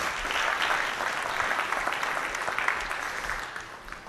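A large audience at a tech conference claps in a sustained, dense burst of applause that holds steady and tapers slightly at the end.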